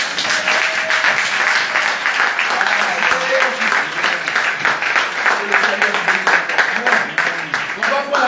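A church congregation applauds at a worship service in Angré, steady loud clapping filling the room throughout while a voice speaks over it.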